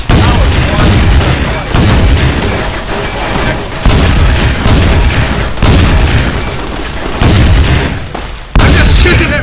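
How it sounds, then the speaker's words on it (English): Weapon fire in Fallout New Vegas during a Vault 68 mod fight: very loud, dense, saturated bursts of shots and booms pounding in repeated waves, with short gaps between them, and voices buried beneath. "I'm just shooting him"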